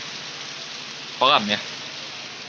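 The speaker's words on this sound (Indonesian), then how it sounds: "Tampaknya di sini masih hujan." Heavy rain pours steadily at a lakeside fishing spot on the Cirata reservoir, a dense, even hiss filling the whole clip while someone speaks briefly in the middle.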